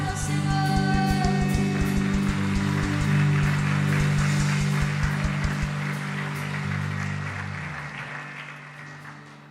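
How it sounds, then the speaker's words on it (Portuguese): A church congregation claps along during a thanksgiving service, a dense, steady patter of many hands under loud sustained music with a thumping beat, fading out at the end. "aplauda o Senhor"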